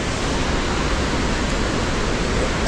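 Gushing river water near a suspension bridge on a Langtang mountain trek roars as a loud, steady, broadband rush with no breaks.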